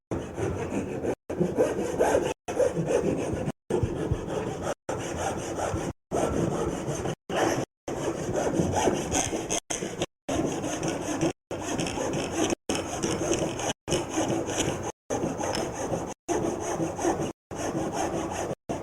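A Japanese hand saw rip-cuts down to the shoulder of a wooden tenon in steady, close back-and-forth strokes, roughly fifteen of them, each separated by a brief pause, with no talking.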